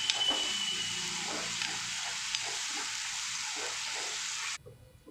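Grated tomato is stirred in a frying pan for egg curry, a constant close sizzle with spoon scrapes that cuts off abruptly near the end, no voices.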